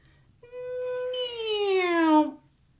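A human voice imitates a cat's meow, a single drawn-out tonal call starting high and sliding gradually downward before cutting off, clear and close in a quiet room.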